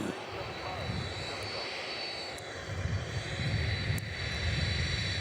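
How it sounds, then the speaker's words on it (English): A Boeing 747's jet engines roar steadily in the distance at Nashville International Airport, a broad rumbling drone that swells slightly toward the end, with voices over it. "That noise you hear is the Queen of the Skies, Boeing 747."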